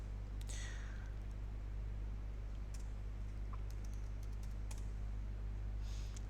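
A terminal command is typed on a computer keyboard, a few quick, faint key clicks in scattered bursts over a steady low electrical hum, with no talking.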